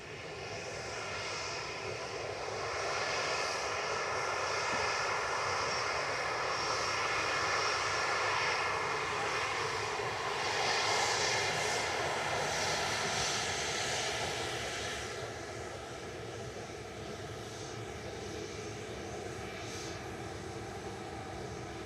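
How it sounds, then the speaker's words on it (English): Ryanair Boeing 737-800 jet departing Manchester Airport: a sustained, distant engine roar that swells and then slowly fades over about twenty seconds, with no other sounds. "Ryanair joining 2-3 left now for departure."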